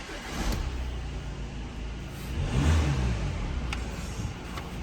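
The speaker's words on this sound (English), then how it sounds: "If we fire the car up then," An Audi Q5 2.0 TDI quattro diesel SUV starts up, its engine catching and settling into a moderate idle rumble with a slight rise in revs, heard fairly quietly with no talking.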